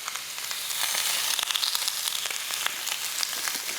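Food frying in oil in a pan, a steady hissing sizzle with scattered crackles and pops, close and moderately loud, with no talking.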